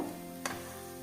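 Rice sizzles steadily in a hot pan, with a soft constant frying hiss and one brief sharp burst of sound partway through. The sizzle is fairly quiet and short.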